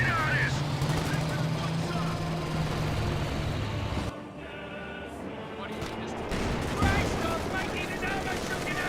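MG40 machine gun fire in a Company of Heroes 2 battle, a dense rattle under tank engines and explosions, with a commentator talking over the whole sequence and a brief lull midway.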